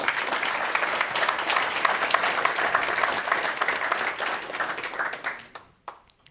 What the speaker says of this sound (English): Give us Ali an applause, please.